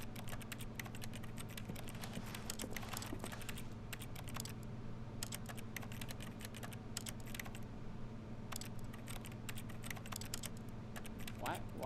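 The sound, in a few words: typing noises in video game The Stanley Parable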